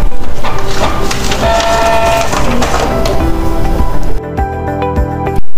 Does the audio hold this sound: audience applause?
no